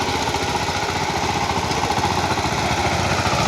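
A tractor engine runs steadily in a Konkan rice field during paddy sowing, giving off a continuous, loud, rough mechanical drone with no pauses.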